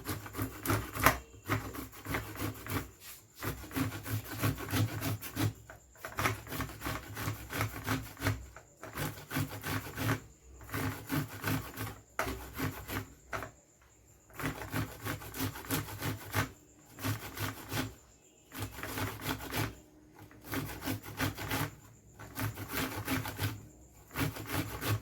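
Corn cobs rubbed against a hand grater for onion, garlic and ginger soup, a rapid series of rasping strokes in steady rhythm with brief pauses, close and moderately quiet, with no talk.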